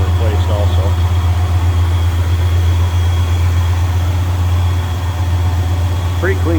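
Engine of a 1970 Cadillac DeVille convertible running steadily at idle, a loud, even low rumble that holds for the whole stretch with a faint mechanical whir on top.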